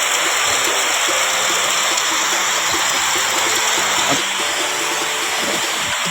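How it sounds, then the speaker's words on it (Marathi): Heavy monsoon rain pours down in the Konkan region, a loud, dense and unbroken rushing hiss that fills the whole stretch without a pause and with no voices. "असं मुसळधार असं पाऊस पडता"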